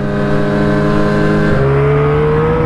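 A Ski-Doo snowmobile engine holds a steady, smooth throttle while riding through forest, its loud continuous drone rising slightly in pitch partway through, close by and with no talking.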